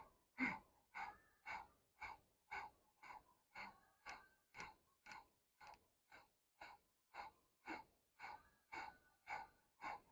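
Rapid, forceful breath of fire during a kundalini yoga class, about twenty evenly spaced sharp exhalations in steady rhythm, close and clear with no talking over it.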